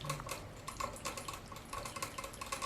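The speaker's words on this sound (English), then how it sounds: "But he drinks water very, very loudly." A pet rabbit laps water loudly from a bottle or bowl, giving a quick run of soft wet clicks and taps close by, repeated in uneven bursts with no voices.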